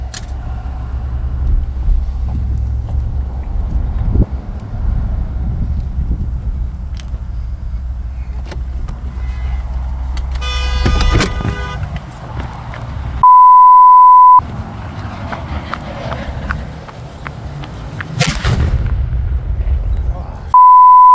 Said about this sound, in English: the audio of the person who comes very close to the plane crash and gets out of their car